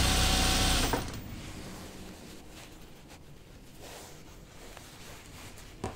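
A Brother sewing machine runs a long seam on pull-on jeans in a fast, loud stitching burst that stops after about a second, leaving faint room noise.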